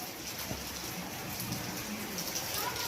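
Rain falls in a steady, faint hiss of drops on surfaces, an even wash of noise with no talk.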